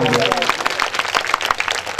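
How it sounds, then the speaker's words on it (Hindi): A crowd at a memorial gathering in Azamgarh, Uttar Pradesh, breaks into a short burst of rapid applause, close and fairly loud, with a voice speaking over the clapping. "जोरदार तालियां"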